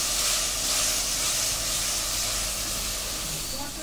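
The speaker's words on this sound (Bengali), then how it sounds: "ফোড়নটা খুব ভালো করে ভেজে নেব। দিয়ে দিচ্ছি মশলা।" Spices sizzle and hiss steadily in hot oil in a pan while the tempering for a yogurt soybean curry fries, a close, continuous bright crackle without pause.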